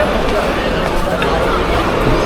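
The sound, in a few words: crowd of pilgrims at Har Ki Pauri on the Ganges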